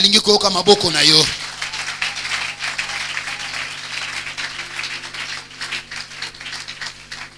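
A church congregation bursts into acclamations and applause, a dense wash of cheering and clapping that follows a brief sung or spoken voice and carries on steadily with a faint tonal background.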